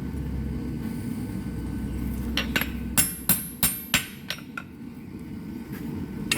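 Hammer blows set a rivet in blacksmith tongs in a workshop, about eight sharp metallic strikes in a steady rhythm, ringing out over a constant low rumble of background noise.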